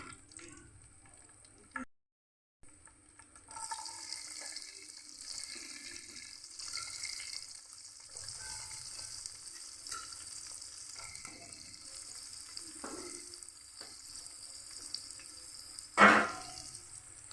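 Onion pieces and curry leaves fry in hot oil with a steady, close sizzle that starts after a brief quiet gap and runs on, broken by one sharp utensil clank near the end.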